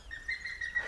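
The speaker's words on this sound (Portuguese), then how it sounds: "Esse passarinho que tá cantando aí." A small bird sings outdoors near a river, a thin high chirping line repeating softly through the short moment, faint against quiet surroundings.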